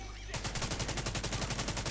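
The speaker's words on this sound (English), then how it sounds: "we'll start some explosions." A turret in a video game fires a rapid, steady series of loud, sharp blasts in quick succession, like sustained automatic gunfire, cutting in abruptly and continuing without pause.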